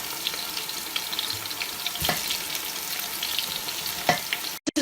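Onions fry in a pot for a Ghanaian corned beef stew, a soft steady sizzle close by with a few sharp clinks and knocks, then a sudden cutoff at the end, no talking.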